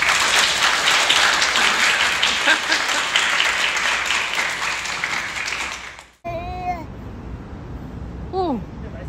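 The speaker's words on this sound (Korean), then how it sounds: "아버님을 큰 박수로 모시겠습니다" Wedding guests applaud loudly for about six seconds, a dense wash of clapping that fades out abruptly, followed by a short sung or chanted voice.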